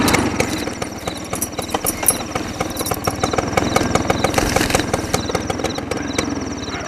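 A scooter engine idles nearby with a rapid, even putter that stays steady and moderately loud throughout, with no voices over it.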